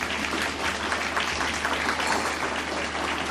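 A crowd at an elementary school celebration applauds, dense steady clapping at an even, fairly loud level throughout the short stretch.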